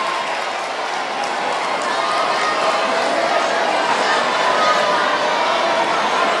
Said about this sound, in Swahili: Nyote mpigieni makofi Mheshimiwa Abdulswamad Sharif Nassir